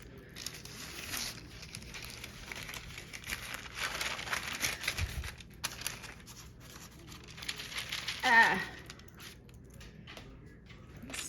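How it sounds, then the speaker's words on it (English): Coffee-dyed paper being crinkled by hand, a soft rustling texture that swells and fades in irregular bursts, with one sharper crackle near the end; no talking. "This is crinkling."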